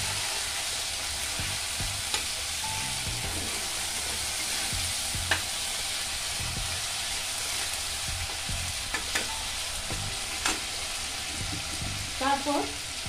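Tomato frying in oil in a pan for a fish curry: a continuous close sizzle broken by scattered clinks and scrapes of stirring, with brief faint sounds near the end.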